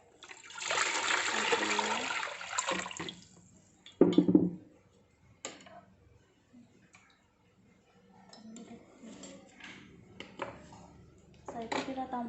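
Water splashes and pours while orchid growing media is rinsed clean in a container, a loud burst followed by scattered knocks, trickles and handling noises, with a person talking softly in between.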